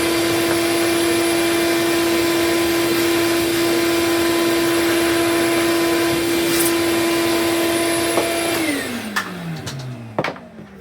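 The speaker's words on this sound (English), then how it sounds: "we're gonna vacuum and brush it up anyway" A vacuum cleaner drones steadily and loudly while cleaning a PS5 console, its whine holding a constant pitch before winding down near the end, with no talk.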